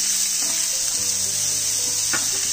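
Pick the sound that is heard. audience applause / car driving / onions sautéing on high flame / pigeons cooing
onions sautéing on high flame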